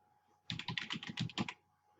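A brief run of rapid keystrokes on a computer keyboard, about ten close, evenly spaced clicks lasting around a second, with quiet before and after.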